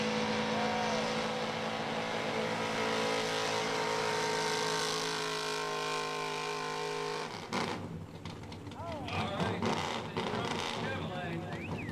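A big-block Chevy 4x4 truck at a truck pull in Fishersville, Virginia roars under steady heavy load, then the engine note breaks off into rougher, fluctuating revving. Crowd noise runs throughout.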